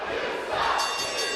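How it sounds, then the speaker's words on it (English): Loud wrestling crowd at an RWA Fall Free for All 2024 match between J-Rocc and Rhino, a sustained roar of cheering and yelling voices filling the hall throughout. "Can you hear this crowd?"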